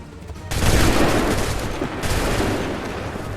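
A musket volley in Assassin's Creed III, a sudden loud burst of many shots fired together that rolls into sustained crackling gunfire, followed by a second surge of shots.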